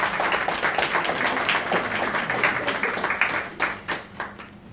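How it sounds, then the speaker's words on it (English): Steady applause from an audience fills the room for several seconds, dense overlapping claps at moderate volume that thin out into a few louder, separate claps near the end. "I want y'all to give my staff a round of applause."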